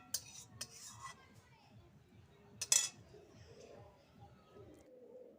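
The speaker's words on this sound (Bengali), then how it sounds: "কড়াইয়ের থেকে মশলাটা ভালো করে খুন্তির সাহায্যে তুলে নিলাম।" A metal spatula scrapes masala from a wok (kadai) after cooking broccoli curry, giving a few sharp, faint clinks and scrapes spread over a soft, quiet background.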